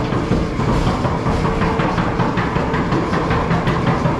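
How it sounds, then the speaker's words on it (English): A ghost train ride at Brighton Palace Pier rattles steadily along its track in the dark, a continuous, loud, close clatter of cars and rails with rhythmic clicks throughout. "Here on the ghost train."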